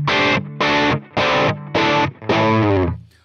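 Distorted guitar through a Fractal AX8 amp model with heavy speaker compression, five chunky chords in a row, each held briefly with short gaps, the last one ringing longer.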